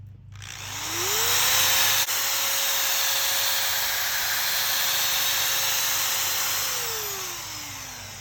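Steady whirring of a power sander grinding against a moistened car headlight lens, spinning up, holding a constant drone for several seconds, then winding down.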